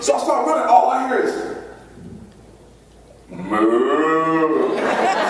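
A person imitates a cow with a long, drawn-out moo in a loud, close voice, after a stretch of speech and a quiet pause.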